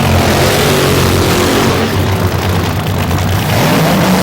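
Nitro drag racing car doing a tire-smoking burnout at the 1988 Super Bowl drag race: a loud, continuous roaring engine at full throttle, harsh and unbroken throughout.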